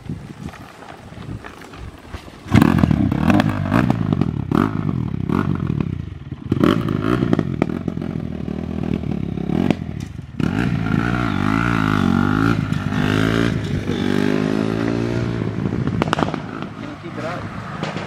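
A fully modified 50cc mini motorcycle, ridden by a small boy and bent from an earlier crash, buzzes and revs repeatedly close by, its pitch rising and falling in quick sweeps, with voices talking over it.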